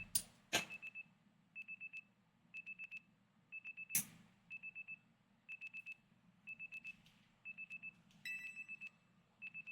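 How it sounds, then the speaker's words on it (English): An alarm in Pokémon Legends Z-A beeps in rapid bursts of four tones, repeating steadily with a couple of louder clicks mixed in, over a low background hum. "Your alarm is going off."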